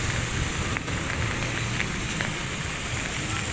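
Steady rain falls and patters on surfaces in Morong, Rizal, an even close hiss that fills the whole stretch without a break.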